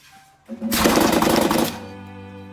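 A V-nail joining machine firing nails into moldings: a mechanical whir builds, then a dense rattling burst of about a second drives the nails, trailing off into a steady motor hum, close and loud.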